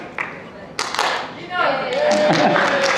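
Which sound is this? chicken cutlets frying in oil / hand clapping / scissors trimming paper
hand clapping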